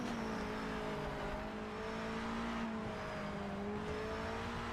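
A V8 race car engine in Project Motor Racing drones steadily at high revs for several seconds, a continuous, fairly quiet in-car hum with no talk.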